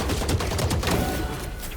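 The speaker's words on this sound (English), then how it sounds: "Try to kill Reyna with 5 Vandal bullets or switch to your pistol?" Vandal rifle fire in Valorant: dense, rapid cracks of automatic gunfire packed together with game effects, loud and sustained through the whole moment.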